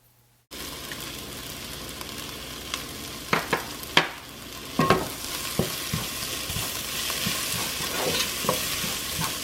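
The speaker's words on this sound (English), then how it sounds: "When that poultry seasoning hits that heat, oh my gosh, it smells so good." Poultry seasoning hits a hot pan for chicken and vegetable pies, bursting into a sudden loud sizzle that holds as a steady hiss, with a few sharp stirring clicks and no voices.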